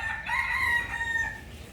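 A rooster crows in a long drawn-out call over a busy farmyard background, with faint clucking around it and no speech.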